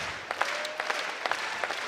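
Crowd reacting at a college wrestling dual meet, a steady arena wash of clapping and cheering with scattered sharp claps, mid-distance and even in level.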